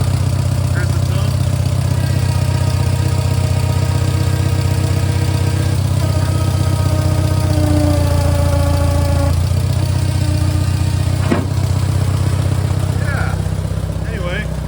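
A 1968 Allis Chalmers D15 Industrial tractor engine runs steadily at close range, its low rumbling idle rising and holding as the throttle opens, with a brief sharp knock near the end.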